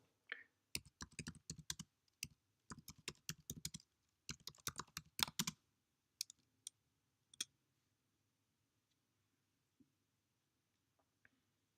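Quick bursts of typing on a computer keyboard in a quiet room, clustered keystrokes in the first six seconds, then a few isolated clicks and long silence.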